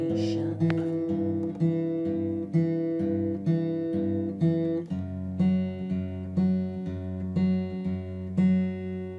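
Acoustic guitar plays an intro riff in G, a close, even pattern of picked notes and strums over ringing bass, repeating steadily with no talking.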